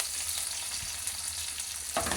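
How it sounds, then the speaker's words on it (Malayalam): Coconut pieces and curry leaves fry in hot oil in a pan, giving a steady, close, even sizzle with a brief sharper crackle near the end. "തേങ്ങാക്കൊത്തും കറിവേപ്പിലയും കൂടി ഇടുകയാണ്"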